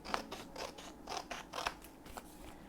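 Paper being cut by hand with scissors for an expandable envelope folder, a series of crisp snipping strokes in an uneven rhythm, close and fairly quiet, with no talking.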